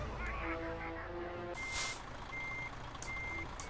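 Euro Truck Simulator 2 game audio: a truck engine rumbles steadily while repeated reversing beeps sound at intervals, with a hiss of air brakes partway through.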